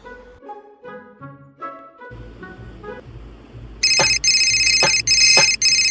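A phone ringtone plays a short melodic tune, then switches to loud, bright, rapidly repeating electronic rings in regular bursts, close and alone.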